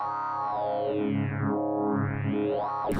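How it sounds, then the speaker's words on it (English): Odin 2 software synth playing a simple FM patch, a sine wave modulating toward a chiptune tone: one sustained, buzzy harmonic-rich note whose pitch sweeps down and back up before a bright burst at the end. "So you have a sine wave going to a chiptune."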